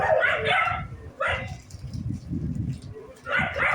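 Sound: dogs barking

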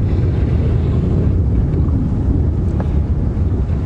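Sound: wind blowing during a safari drive

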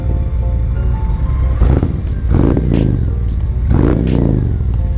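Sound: Harley Road Glide Special with Khrome Werks full exhaust revving

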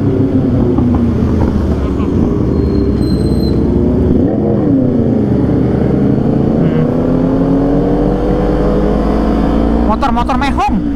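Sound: loud motorcycle engine

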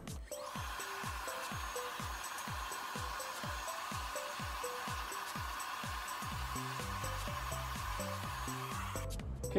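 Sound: hair dryer drying hair

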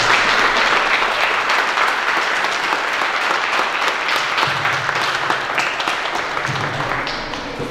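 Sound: wedding guests applauding the newlyweds

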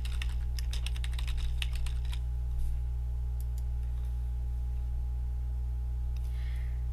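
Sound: typing on a computer keyboard

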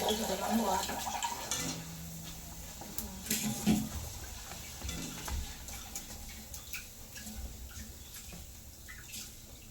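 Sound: frying bhaji fritters in a pan

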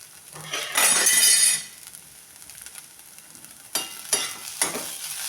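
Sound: mixing salt into grated potato stir-fry (bhaji)

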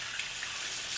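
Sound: rinsing period underwear under running water

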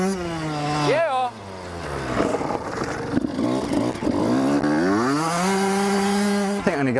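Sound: 80cc petrol engine mountain bike riding

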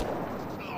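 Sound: gunshot in Mass Effect Andromeda video game

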